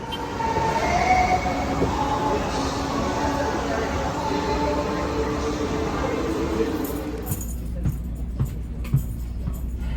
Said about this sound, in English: We're on the train off to our next destination.